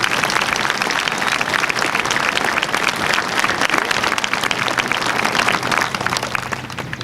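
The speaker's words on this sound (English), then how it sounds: "let's give them a round of applause for that" Sustained applause from a graduation audience for the graduating class of 2014, dense, steady clapping that fills the room at even loudness throughout, with no voices standing out above it.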